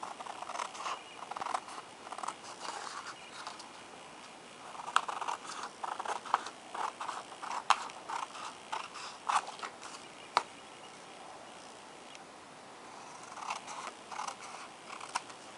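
Scissors cut card stock for a handmade keepsake box, with a long run of soft, repeated snipping and crisp clicks up close in a quiet room.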